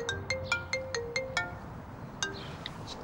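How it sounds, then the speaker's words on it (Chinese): A phone ringtone rings in a Chinese TV drama scene, a bright, repeated burst of chiming tones in a quick, regular pattern, fairly clear and close, with a short pause before it starts again. "接电话。"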